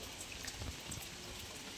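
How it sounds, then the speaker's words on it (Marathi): Rain falls steadily outdoors in a brief burst, with soft pattering drops hitting surfaces close by and no voices. "पाऊस बघा किती पडतो."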